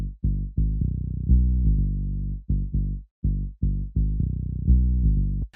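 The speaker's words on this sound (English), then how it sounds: "And there's that bass sound happening here like this." A deep tech-house synth bass riff of short and held notes in a choppy rhythm, loud and dry, each note cut off sharply.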